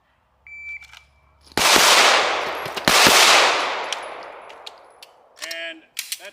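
Handgun fired during a USPSA shooting drill: after an electronic timer beep come two sharp, very loud gunshots about a second and a half apart, each ringing out in a long fading echo, followed by faint clinks and beeps.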